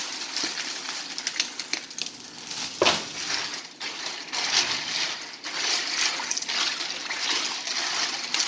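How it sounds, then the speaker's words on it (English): Ice goes into hot brine water for smoking meat, with splashing, crunching clatter and trickling water that rise and fall in bursts, close up and fairly loud. "I'm going to add ice to cool it down."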